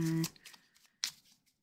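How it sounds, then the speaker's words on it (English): A tarot card deck riffled in a quick rifle shuffle, a short dense burst of flapping cards up front, then a lighter tap and a second brief card snap, close and alone with no talk. "I'm just going to do one more rifle shuffle"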